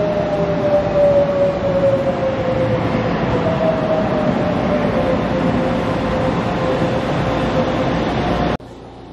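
Taiwan High Speed Rail bullet train arriving at a station, a loud, steady rushing rumble with a sliding whine that slowly falls in pitch as it approaches close by.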